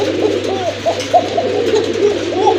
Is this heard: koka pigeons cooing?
yes